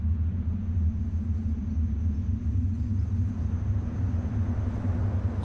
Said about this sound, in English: The dust storm rages across the landscape,